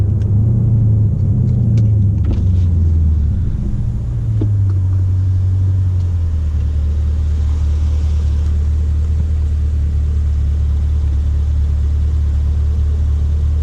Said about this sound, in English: I want to try a hard acceleration from a dig and see what it does